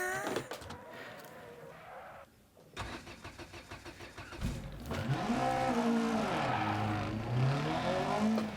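A rally car engine in Dirt Rally 2.0 starts up and revs, rising and falling in pitch through gear changes, loud and close, with a brief quiet gap early on.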